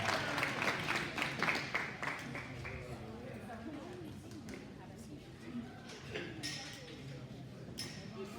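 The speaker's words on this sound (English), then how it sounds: "Let's congratulate them with a round of applause." Applause at a cattle show awards, honoring a junior showmanship class: a dense burst of clapping fills the first three seconds, then fades into crowd murmur and talking in a large indoor arena.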